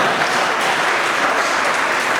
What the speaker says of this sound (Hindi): और जोर से ताली बजाओ।